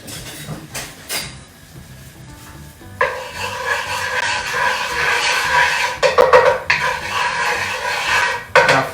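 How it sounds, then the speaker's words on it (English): Leeks stir-fried in hot oil in a pan: loud sizzling with repeated scraping and stirring strokes of a utensil against the metal, busy and close, with no talk. "We're gonna just stir fry this one."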